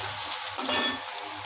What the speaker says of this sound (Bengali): আগে পেঁয়াজটা ভাজা ভাজা করে নিই লাল লাল করে।